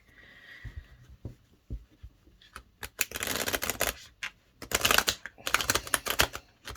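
A tarot card deck is shuffled on a cloth-covered table, giving bursts of dense riffling and flicking card noise that swell and pause, close and fairly loud, with a few soft taps at the start and no talk.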